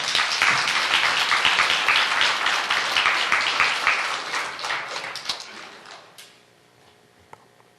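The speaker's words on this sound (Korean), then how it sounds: "여러분 큰 박수로 맞아주시기 바랍니다" A church audience at an Atlanta Presbyterian festival applauds to welcome the singers: dense, loud clapping that holds for several seconds, then thins to a few scattered claps and fades away.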